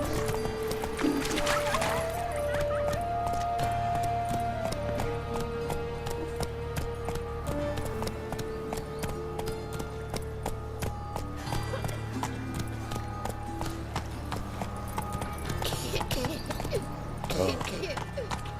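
Roach, a horse in The Witcher 3, trots with rhythmic clip-clop hooves under a voice, a whinny-like call early on, and a steady background of game sound.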